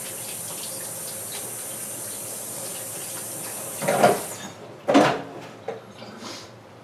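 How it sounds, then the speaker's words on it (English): Tap water runs steadily into a sink during handwashing, a constant hiss, then a few louder splashes and gushes as hands move under the stream near the end. "Hang on, I gotta wash my hands."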